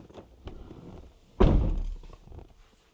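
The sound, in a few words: car door closing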